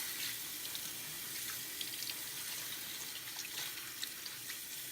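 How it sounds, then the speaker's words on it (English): Kitchen tap water runs steadily into a sink while a raw turkey is rinsed under it, a moderate, even hiss with light splashing, no one talking. "So I'm rinsing it off now."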